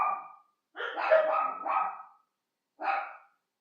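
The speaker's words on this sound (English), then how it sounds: "oh gosh, dogs, no, this is not okay" Dogs bark loudly and close by: one short bout, then a longer burst of overlapping barks, a pause, and a final cluster. There is no talking.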